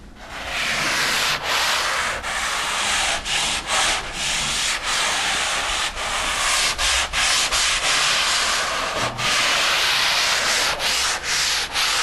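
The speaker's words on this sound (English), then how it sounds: "we will take our sanding sponge, which is a fine, extra fine sanding sponge," An extra fine sanding sponge rubs lightly over a drywall wall patch, making a steady, loud, continuous scratchy hiss broken by short pauses between back-and-forth strokes.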